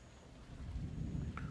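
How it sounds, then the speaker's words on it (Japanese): Thunder during a summer storm, a low, deep rumble building and rolling in the distance over faint rain, growing slightly louder toward the end. "うわ雷"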